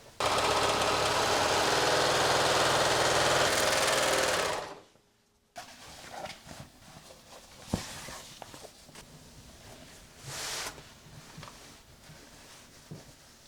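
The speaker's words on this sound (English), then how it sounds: "now I'm going to finish this seam allowance with my serger" A serger finishes a garment seam allowance with a loud, steady rapid whir that runs for about four seconds and then stops, followed by quieter handling and rustling noises.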